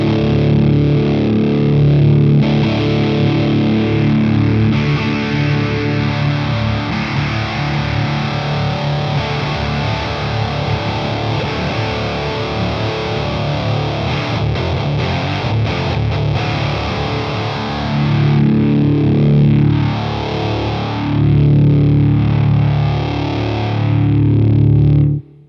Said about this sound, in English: show you all the different tones with the filter knob